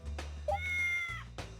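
A single drawn-out cat meow buzzer sound effect in a party quiz game sounds clearly, rising and then falling, preceded and followed by brief soft noises.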